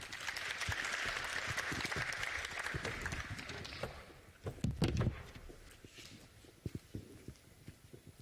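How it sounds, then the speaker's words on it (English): An audience at a Fifth Industrial Revolution conference claps for a speaker after her quantum internet presentation: dense, steady applause for about four seconds, then it thins and fades to scattered claps and room noise. "can we give her a round of applause?"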